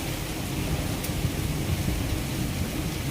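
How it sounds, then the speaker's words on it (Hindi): Heavy rain pours down steadily outdoors, a dense unbroken hiss of water with no voices. "तो बाहर हो रही है बारिश धम धमाधम, देखो।"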